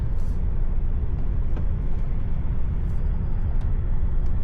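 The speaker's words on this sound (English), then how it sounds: "See all the traffic going all the way around." Road traffic circling a busy roundabout, heard as a continuous low rumble of engines and tyres from inside a moving vehicle, with a few faint high clicks.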